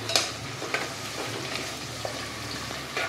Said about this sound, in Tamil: இப்போது வெங்காயம் நல்லா ஒரு மாதிரி ப்ரௌனாக வந்துருச்சு பார்த்தீங்களா